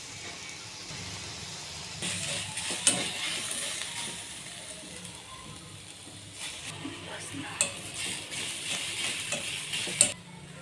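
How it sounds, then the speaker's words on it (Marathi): Onions roasting in a pan for a Maharashtrian village-style amti, a steady soft sizzle with occasional stirring scrapes and a few sharp clinks of a utensil against the pan. "अजून याला भाजायचं आहे कांद्याला"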